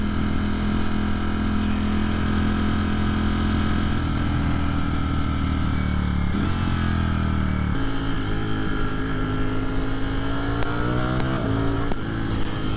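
A 2022 Ducati Streetfighter V4 engine pulls hard in sport mode while riding, climbing through the revs with a brief drop at each gear change, loud and close with no talk.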